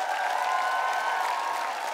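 A concert audience gives steady applause for an ensemble at a choral contest final, a dense even wash of clapping from a large crowd, sustained at moderate volume throughout.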